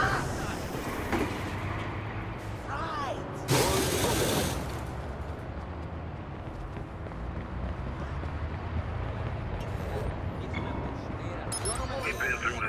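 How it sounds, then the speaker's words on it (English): A subway train pulls into a station in the Watch Dogs video game, a steady rumbling rail roar that swells briefly midway, with a station announcement voice and talk over it. "Northbound train arriving shortly."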